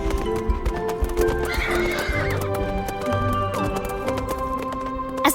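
Horses walking at sunset in a desert, steady clip-clop of hooves with a neigh, close and continuous over a layer of music.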